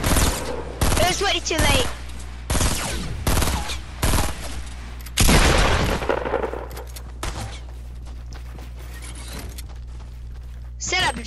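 Rapid bursts of gunfire in the Fortnite battle royale video game crack out loud and close in repeated volleys, trailing off into scattered shots, with a person talking briefly over them.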